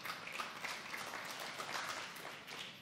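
Congregation clapping during a church revival sermon, a steady wash of many hands at a moderate distance, fairly soft and continuous throughout without speech.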